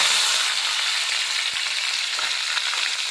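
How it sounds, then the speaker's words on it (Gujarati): Steady, close sizzling of cumin seeds dropped into hot oil, a continuous bright crackle that holds evenly throughout with a faint tap partway. "જરા જીરું નાખી દીધું આપણે વઘારમાં."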